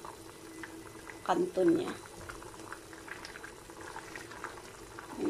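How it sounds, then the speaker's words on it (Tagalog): Water boiling in a pot for sardine instant noodles, a soft steady bubbling hiss with a louder burst of stirring or pot noise near the middle, under a person talking. "Kumulo na siya."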